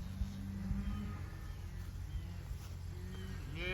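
Cattle moo during a drive of 125 cow/calf pairs after heavy rain, low overlapping calls from several animals against steady outdoor engine and wind rumble.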